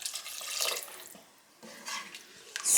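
Water is poured into a cooking pot of beef broth for Nigerian yam pottage, a close, hissing, splashing stream that fades briefly and then surges again, with no talking.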